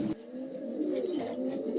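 Soft, continuous pigeon cooing, low rolling coos repeating close by with no other sounds.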